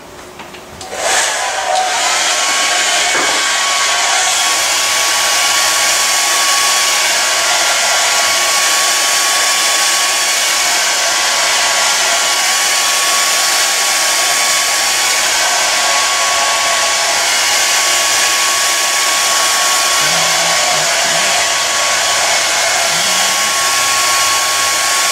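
A hair dryer blow-dries a woman's short, spiky haircut, starting up and then running as a loud, steady whooshing roar with a thin whine, close and continuous throughout.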